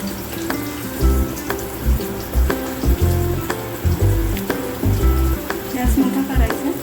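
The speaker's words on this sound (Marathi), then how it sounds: "त्यांना चांगलं तळून झालं किंवा आपल्याला ॲड करायचा आहे कांदा चिरून घेतलेला" Thinly sliced onion sizzles and crackles steadily in a hot pan while a soybean veg biryani is being cooked, with spoon scrapes and clinks knocking in an irregular rhythm close by.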